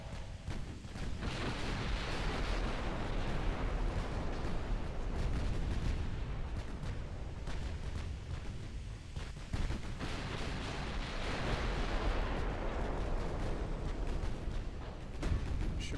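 Naval cannon fire from 14-inch battleship guns in a video game battle: a dense, continuous wall of booming blasts and rumbling explosions, loud and sustained throughout with no pauses.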